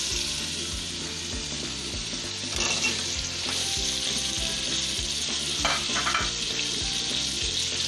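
Chunks of potato go into a pan of frying chicken. A loud, dense sizzle runs throughout, with rhythmic stirring thuds and scrapes against the pan and a few brighter splattering bursts.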